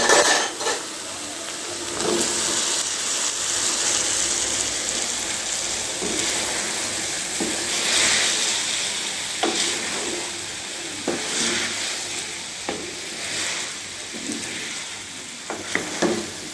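Okra added to masala in a pan and stirred, a close, steady frying hiss with scraping stirs and occasional clinks of a utensil against the pan, no voices.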